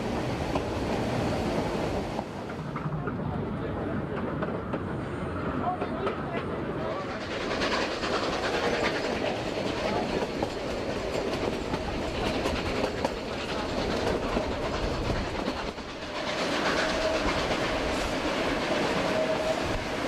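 Denver & Rio Grande Western narrow gauge train rolling along the Animas River toward Silverton beneath high peaks, a steady loud rumble and rattle of cars and wheels with a brief lull partway through, no talk.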